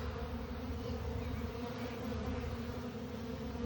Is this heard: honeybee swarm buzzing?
yes